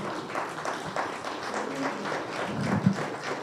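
A church congregation claps together at a Sunday service, a dense, steady patter of many hands that carries on for a few seconds at moderate level with a hint of voices underneath.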